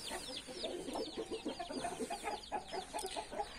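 A hen clucks repeatedly in quick, uneven bursts, close and fairly loud, with a busy rhythm of short calls and no voices.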